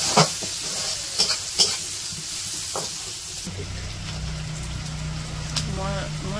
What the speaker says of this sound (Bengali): পেঁয়াজ কাঁচা দিয়ে দিল।